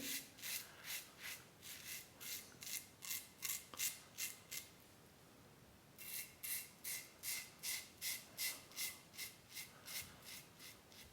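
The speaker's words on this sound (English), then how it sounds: "Zipping through my beard easily." Parker 60R safety razor scraping through a beard with lather, rhythmic crisp strokes in quick runs, a short pause, then another steady series, close and fairly quiet.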